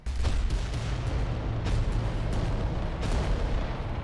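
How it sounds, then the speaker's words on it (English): Volcano cannons of a giant war machine fire in the Adeptus Titanicus: Dominus strategy game, a heavy sustained rumbling roar with deep booming low end and a couple of sharper cracks layered through. "the volcano cannons look like they're in range"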